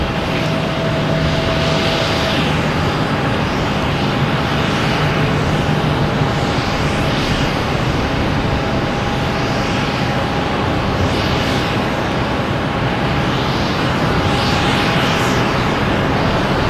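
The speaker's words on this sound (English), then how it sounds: "Swiss Air lined up on 4 right, heading back to Zurich" A Swiss Air airliner bound for Zurich sits on runway 4 right at Boston Logan, its engines giving off a steady, loud, continuous roar with a faint whine above it that holds level throughout.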